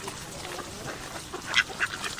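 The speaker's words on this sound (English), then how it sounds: "Look, ducks." Ducks at an outdoor park give a few short quacks, close by, over a soft, continuous outdoor background.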